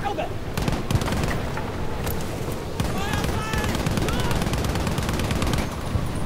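Rifle gunfire in Battlefield 5, with sustained, rapid shots and crackling battlefield noise running steadily throughout. Voices can be heard faintly beneath the shooting.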